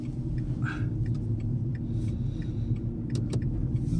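An electric Renault Twingo driving along, a steady low road rumble and tyre noise with faint interior rattles, no engine note, quiet and continuous.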